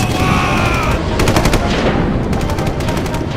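Rapid machine gun fire from a World War I battle scene rattles loudly in quick bursts, with several short gaps between volleys and a steady rumble underneath.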